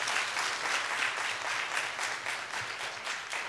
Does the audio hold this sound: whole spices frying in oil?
no